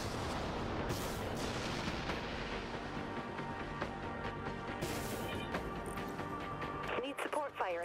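In the video game Dreadnought, a drain missile launches amid a dense, continuous din of heavy gunfire and explosion-like booms. Voices talk over the loud, steady combat noise.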